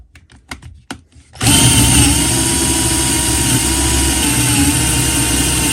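Parkside 12V cordless angle drill turning an 8 mm bit, starting after a few light clicks and then running with a steady, loud whine that holds level for several seconds.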